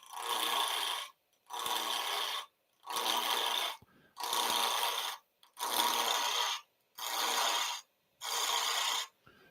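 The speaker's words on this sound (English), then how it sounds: "swooping in with this right corner of the gouge" A spindle gouge cuts wood on a lathe in seven evenly spaced, near rasping passes, each a hissing shear of about a second followed by a short gap.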